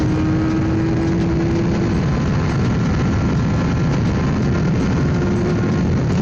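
Steady, loud engine drone from a restored 1989 Yamaha FZR 400 motorcycle being ridden, a continuous broadband roar with wind rush and a faint rising engine whine throughout, no speech.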